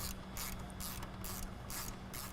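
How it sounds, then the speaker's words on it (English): A ratchet tightens a bolt on an S&B cold air intake in a 2020-2023 Jeep Wrangler or Gladiator, giving close, steady bursts of rapid pawl clicking in several strokes with no talk. "Tighten down the bolt that you had loosely installed earlier."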